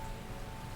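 Steady rain falls outside in the game Strange Horticulture, a soft continuous hiss and patter that stays even and fairly quiet for the whole moment.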